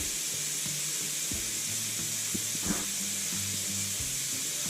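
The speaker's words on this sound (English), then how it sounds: "We're running water here, some movement here." Steady hiss of water running from a tap into a sink during a clogged main sewer line repair, constant and close with a faint gurgling undertone and no talking.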